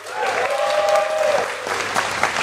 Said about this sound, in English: Can we have a round of applause for Dr. Melanie Samuels